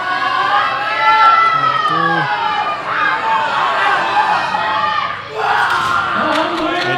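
Crowd at the 2016 World Open Powerlifting Championships, men's 105 kg class, cheers and shouts wildly in a sustained roar of voices, with excited yelling rising and falling across the hall.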